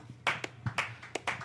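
A few people clap for a jazz trio's bassist, quiet and sparse: a handful of distinct hand claps in an uneven rhythm rather than full applause.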